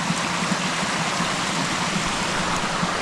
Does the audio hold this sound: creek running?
yes